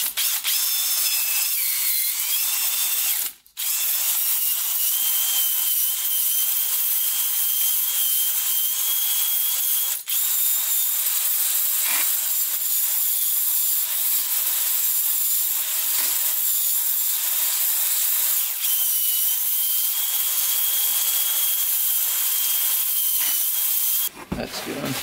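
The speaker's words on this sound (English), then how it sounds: "we're going to try to hone out this cylinder here using the ball hone for 250cc" Drill spinning a ball hone inside a 250cc Honda 300ex ATV engine cylinder, a continuous loud high whirring grind with only a few short breaks.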